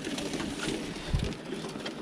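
Birmingham Roller pigeons cooing indoors in a winter loft, soft low coos repeating close by against a quiet background.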